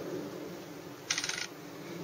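Coins dropping in a coin pusher game, a brief burst of metallic clinks lasting under half a second over a steady background hum.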